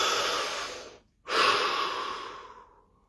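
Two deep breaths close up, a long inhale-exhale then a pause and a second fuller breath that fades out slowly, alone with no talk.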